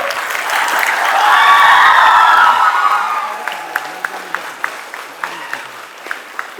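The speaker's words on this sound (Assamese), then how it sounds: "এতিয়া আমি এবাৰ জোৰত হাত চাপৰি স্পেক্ট্ৰামৰ কাৰণে মাৰিম।" A loud burst of audience applause at a live Q&A event swells for about three seconds, then fades into a few sparse, evenly spaced claps.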